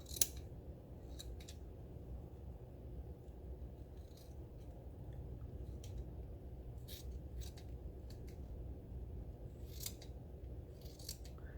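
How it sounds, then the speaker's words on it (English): Scissors trimming loose extra threads on a DIY sewn business card holder, a series of faint, crisp snips in short clusters over a quiet background with no talking. "If there's any extra threads, you can go ahead and trim those up too."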